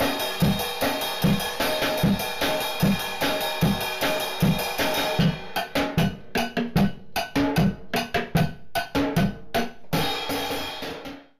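Homemade drum kit built from recycled cans, pots and a tub is played in a quick rhythmic pattern, loud close hits with ringing metallic tones, breaking into choppier separated strikes partway through, with no talking.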